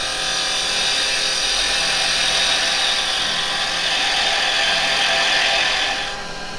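A woodturning gouge cuts a round blank of yew spinning on a lathe, giving a steady, loud hissing and scraping across the whole clip that eases off at the end, with no talk.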